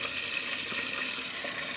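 A whole chicken fries in hot oil, making a steady, dense crackling sizzle that holds evenly throughout at moderate volume, with no talk.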